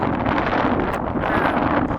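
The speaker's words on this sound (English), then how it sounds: "you can probably hear it's windy." Strong, steady, cold wind in the Rocky Mountains roars across the microphone, a continuous loud rushing noise with no pauses.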